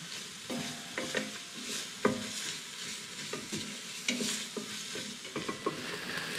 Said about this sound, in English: Just going to soften those onions off on a lower heat.